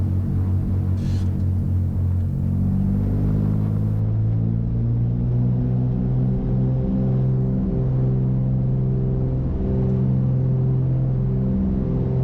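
A Cessna 310 twin-engine aircraft begins its takeoff roll, both engines droning in a loud, steady, throbbing roar that builds and holds throughout.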